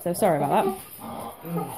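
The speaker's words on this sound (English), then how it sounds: "That's my dog who's going to go crazy for a little bit" A pet dog barks and whines in short yelps and whimpers indoors, close by, while someone talks over it.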